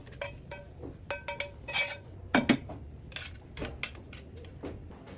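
Metal utensils clink and scrape against pots and dishes as cooked breakfast food is moved into a container, giving sharp irregular clatters at close range with quiet gaps between them.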